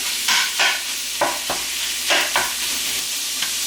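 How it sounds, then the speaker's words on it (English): Chorizo removed from its casings frying in a pan and being broken up and stirred with a spatula, giving a loud, close sizzle with a series of distinct scraping strokes. "Just cook this, stirring every so often until it's all brown."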